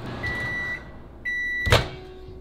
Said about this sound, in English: let's just put it in the microwave for 1 minute